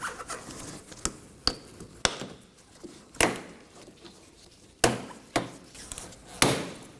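Plastic wheel arch tabs on a Dodge Durango front bumper pop loose one after another, a series of sharp snapping clicks close by, spaced irregularly over several seconds.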